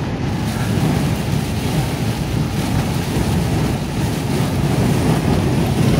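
Strong storm wind buffets and shakes an old van, producing a loud, steady roar and low rumbling rattle that continues without a break, with no talking.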